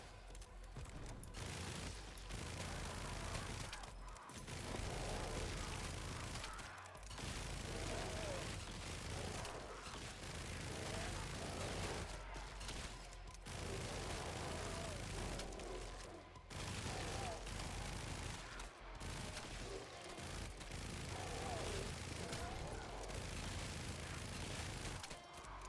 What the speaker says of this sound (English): I love the sound of these guns too.